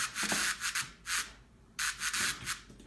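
Rhythmic bursts of bright white-noise hiss from a simple noise synth layer in FL Studio, a few swells separated by brief quiet gaps, heard alone and up close.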